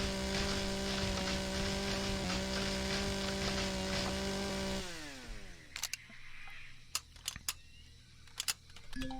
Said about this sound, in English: Let's just use the chainsaw that we currently have,